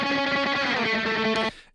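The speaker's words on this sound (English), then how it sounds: "There's the guitar." Dry surf-style electric guitar, a short bright run of sustained, harmonically rich notes played alone, cutting off cleanly after about a second and a half.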